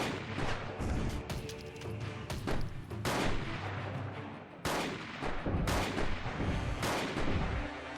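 Rapid bursts of video game gunfire with heavy booms and rocket-like blasts from the shooter Rencia, Mission 10 on hard difficulty, loud and dense throughout, with sharp shot transients over a sustained roar.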